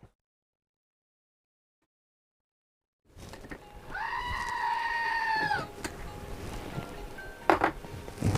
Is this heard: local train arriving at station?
no